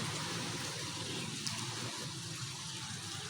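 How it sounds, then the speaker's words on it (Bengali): Light rain falling steadily on a cloudy morning in Durgapur, West Bengal, a soft continuous hiss and patter at even, moderate level with no voices. "এখনো বৃষ্টি পড়ছে টুকটুক করে।"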